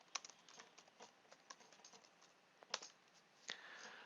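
Search words being typed on a computer keyboard: a quiet, uneven run of light key clicks at close range with a few sharper, louder taps, no voices.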